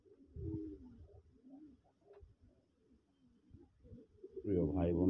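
Red pigeons in a loft give a series of low, close coos at an uneven rhythm, the calls growing louder toward the end.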